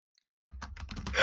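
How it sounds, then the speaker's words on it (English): A computer keyboard gets slapped aggressively after a moment of silence, with a rapid run of hard, close keystrokes that build into a loud burst at the end. "I am aggressively slapping my keyboard so hard right now"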